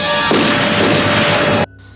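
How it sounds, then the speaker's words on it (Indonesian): A police officer's gunshot in a Friday the 13th television episode: one loud, sudden blast at close range with a dense, roaring wash that holds for over a second and then cuts off sharply. "Polisi itu pun menembak Tom."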